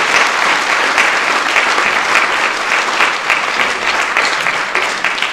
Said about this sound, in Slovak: Takže ešte raz potlesk pre pani Rút a aj pre pani doktorku Nonu.